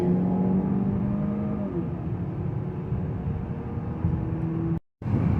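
A 2019 Chevrolet Impala LT with the 2.5L engine accelerates hard from a standstill to 60 mph, its engine note rising steadily and then dropping briefly at a gear change before climbing again, heard from inside the cabin.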